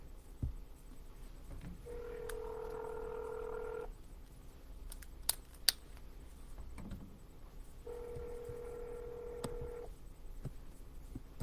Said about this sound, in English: I'm just going to go ahead and start the dialer and we'll get rocking.